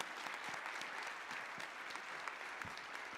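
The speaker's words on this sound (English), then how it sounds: "let's give all of them a round of applause" An audience at a school board meeting applauds honor students with steady, even clapping for about three seconds, no talking.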